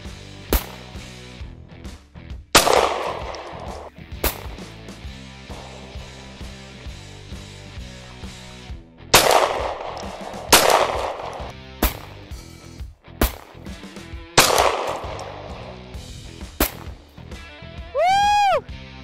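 Gunshots fired at a blank painting canvas ring out as sharp, loud single reports, about nine irregularly spaced cracks with echoing tails, followed near the end by a warbling, descending whistle-like tone.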